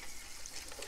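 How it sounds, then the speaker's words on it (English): Quick rinse of water over the portafilter of a Gaggia Classic espresso machine, a faint, steady hissing trickle lasting about a second with no talk. "And then I do a quick rinse. You can see the water."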